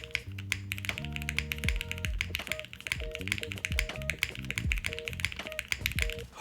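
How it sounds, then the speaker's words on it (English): Typing on an Alison60 custom mechanical keyboard, a quick, steady patter of keystrokes running throughout, close and fairly clear, with some musical tones playing underneath. "a whole bunch of like really interesting choices that went into the sound of this keyboard"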